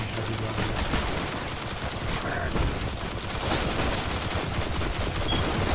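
Sidearm gunfire in the Destiny co-op video game during a strike mission, a loud, dense stream of shots and combat noise that continues throughout.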